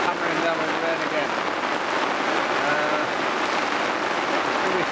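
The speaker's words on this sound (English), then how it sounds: "it is absolutely hammering down with rain again" Heavy rain hammers down steadily outdoors during a squall at a riverside barbel fishing spot at Fawdington and Asenby, a dense continuous hiss of pouring rain close by and loud throughout.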